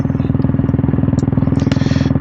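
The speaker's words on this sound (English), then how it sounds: "Just going for a short review on the Red Rooster exhaust right out" Royal Enfield Classic 350 fitted with a Red Rooster stainless steel exhaust, idling up close with a loud, even thump-thump pulse and a deep, steady beat.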